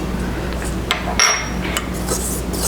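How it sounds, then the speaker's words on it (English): A whisk clinks against a mixing bowl while stirring salt and spices into flour for sourdough pizza crust, a few light metallic taps over a steady low background hum. "I'm going to whisk in my salt and various spices into the flour"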